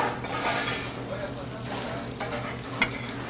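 A halibut fillet sears on one side in a hot pan with a soft, steady sizzle and faint hiss, close but quiet, broken by one brief clink near the end.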